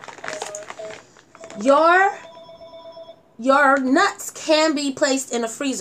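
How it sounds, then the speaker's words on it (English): A home telephone rings with steady electronic bell tones under and between someone speaking in a kitchen, the ringing clear and close while she keeps talking over it. "And that's my phone, but it'll go to voicemail or my answer machine."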